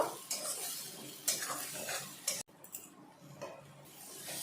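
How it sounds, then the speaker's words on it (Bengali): Masala paste being stir-fried with fried onions in a pan for a restaurant-style egg curry, with repeated scraping and clinking of a spoon against the pan, close and fairly quiet, and no talking. "এই পেস্ট করা মশলা দিয়ে দিলাম। এখন ভালো করে এটা কষিয়ে নেব।"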